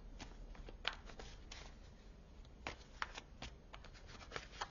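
Oracle cards shuffled by hand for a tarot-style reading, a quiet, close run of repeated riffling flicks and soft card slaps in an uneven rhythm, with no talk.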